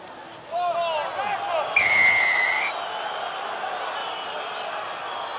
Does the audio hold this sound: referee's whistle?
yes